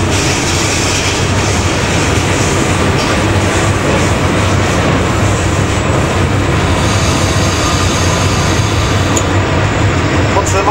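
A train pulling into Malbork station in Poland, loud and close, with continuous rumbling wheels and clatter and a faint high squeal toward the end.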